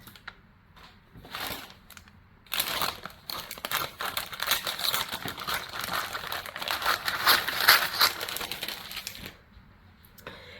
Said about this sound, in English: I'm going to take scissors and I'm going to cut this off right here.